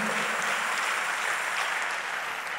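Church congregation applause fills the space, a dense continuous patter of many hands clapping at close, even loudness and tapering only slightly toward the end.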